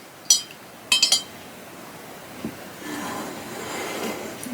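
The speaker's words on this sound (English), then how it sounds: "Give it a little quick stir." A spoon clinks sharply against a glass while stirring a drink with hazelnut sweetener, one tap then a quick triple clink, followed by a faint rustle and low background hum.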